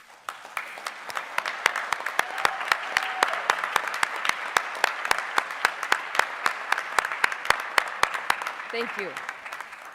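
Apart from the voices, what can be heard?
audience applause for nursing graduates at a commencement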